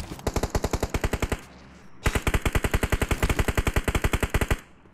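Automatic gunfire in PUBG Mobile: two long, rapid bursts of loud shots in a steady rhythm, split by a short pause.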